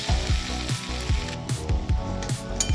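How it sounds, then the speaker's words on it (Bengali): Spiced masala sizzles and fries in hot oil in a pan while it is stirred, a steady loud crackle with rhythmic scraping pulses, no voices. "ভালো করে কষিয়ে নেবো তেল ছাড়া অবধি"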